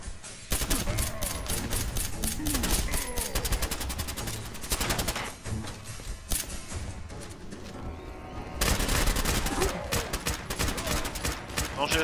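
Dense, rapid gunfire from Fallout 4 combat against super mutants, loud sustained automatic bursts and single shots crowding together with crashes, a voice talking over the shooting.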